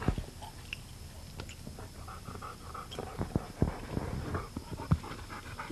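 A young field-trial dog about two years old panting close by, quick soft breaths mixed with light mouth and chewing noises, no talk.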